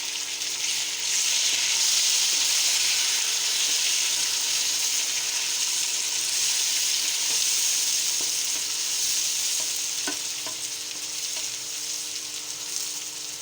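Chopped tomatoes hitting a pan of browned potatoes and chicken set off a loud, steady sizzle of frying that holds for the whole stretch, with a few faint clinks and scrapes near the end.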